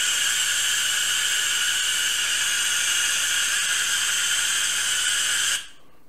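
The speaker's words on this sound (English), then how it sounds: "It's basically the hiss of voltage coming together right there." A steady high-pitched electrical whine and hiss from a flyback transformer's high-voltage arc, with strong tonal bands, holding constant for several seconds before cutting off abruptly.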